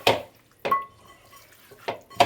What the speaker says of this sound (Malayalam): ഇനി ഇതിവിടെ മൂടി വയ്ക്കാം.